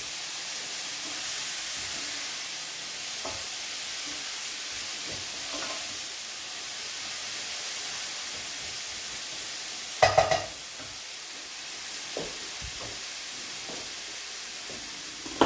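Ground meat browns in a pan for spaghetti bolognese, giving a steady soft sizzle and hiss throughout, with a few scraping stirs and clinks of a utensil against the pan.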